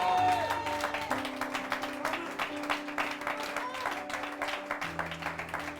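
A church congregation applauding and cheering to acclaim the Lord, steady dense clapping from a crowd under sustained organ or keyboard chords, with voices mixed in.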